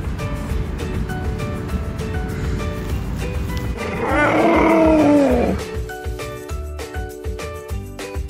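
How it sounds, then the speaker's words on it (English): A big cat, a cheetah, lets out one loud rough roaring call lasting over a second, standing out above steady rushing background noise with music underneath. "Cheetah."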